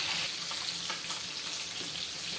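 Oil sizzles and crackles steadily as tilapia fries, a soft, continuous hiss with small pops and no talking.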